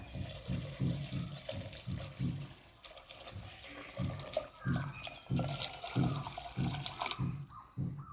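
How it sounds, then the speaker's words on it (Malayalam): Water poured into a container while making homemade lubica fruit wine, a close splashing, gurgling flow with a rhythmic pulse throughout. "വെള്ളം ഒഴിച്ച് കൊടുക്കാം കേട്ടോ."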